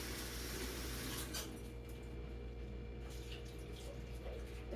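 Water runs steadily from a tap while baby carrots are washed, a close, constant hiss and splash that fills the whole span.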